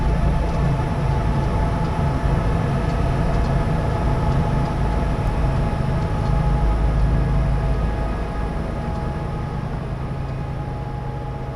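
A BNSF SD75 locomotive hauls a string of green hoppers in Train Simulator 2016, giving a steady, loud diesel rumble and rolling rail noise throughout with no talking.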